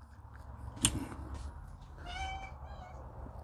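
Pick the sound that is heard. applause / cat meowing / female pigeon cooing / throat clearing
cat meowing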